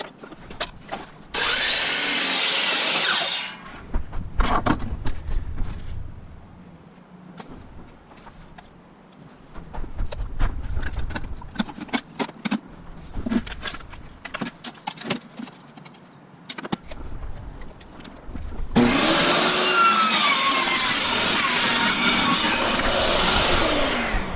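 A saw makes a straight cut through stained pine wood siding, with two loud bursts of harsh buzzing sawing separated by a stretch of clattering, handling and tapping of boards.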